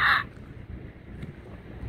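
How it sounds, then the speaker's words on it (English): A giant crow at the Ludlow Cafe on historic Route 66 in California gives one loud, close caw right at the start, followed by quiet outdoor background hum. "Look at this giant crow"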